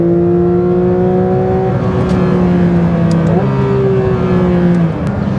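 A loud, close naturally aspirated Porsche 992 GT3 RS engine holds a strong rising drone, revving up and shifting pitch in steps without any talking, driving on the Autobahn.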